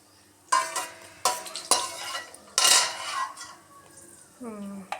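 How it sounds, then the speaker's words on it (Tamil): A metal spoon clanks and scrapes in a pan over a light sizzle of fenugreek seeds frying in hot oil, with irregular stirring strikes and a brief voice near the end. "எண்ணெய் சூடாயிருச்சு, வெந்தயத்தை போட்டுக்கிறோம்."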